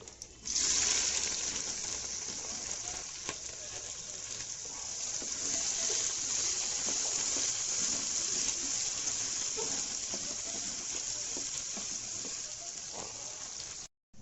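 Chopped onion hits hot oil with whole garam masala and sizzles steadily, a loud, close, hissing fry that holds for the whole stretch before cutting off abruptly.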